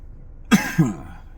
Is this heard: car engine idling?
no